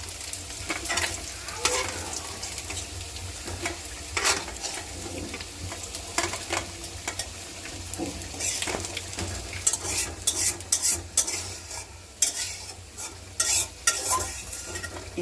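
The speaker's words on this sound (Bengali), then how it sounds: "মাছগুলো ভাজা হয়ে গেছে" Fish frying in hot oil for a home-cooked lunch, a steady close sizzle broken by repeated sharp scrapes and clinks of a spatula against the pan, with no talking.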